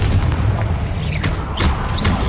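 A Confringo blasting spell explodes in a Harry Potter video game, giving a loud, sustained booming burst with rumbling low end and crackling debris across the whole stretch.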